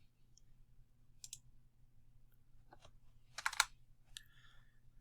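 A few separate clicks of keys tapped on a computer keyboard, spaced out over a few seconds against a quiet background hum.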